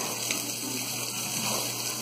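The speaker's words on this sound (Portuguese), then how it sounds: "o que a gente tira do armário, a gente passa uma água" Water runs steadily from a tap as a dish is rinsed, a continuous close rushing hiss with faint splashing and no talking.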